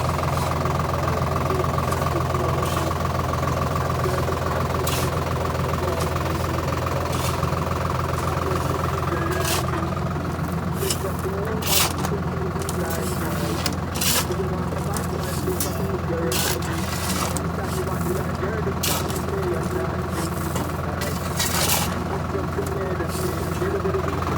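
A diesel tractor engine idles and chugs steadily throughout, a low constant drone with clicks and rattles, while a voice speaks over it.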